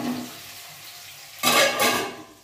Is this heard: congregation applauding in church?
no